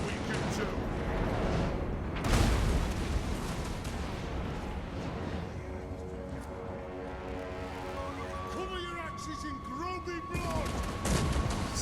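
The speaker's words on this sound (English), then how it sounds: "Our organ guns, though, let's fire the organ gun." Organ gun volleys in the Total War Warhammer video game boom and crackle in dense bursts of fire, with a sharp blast early on, mixed with battle noise and a voice talking over it.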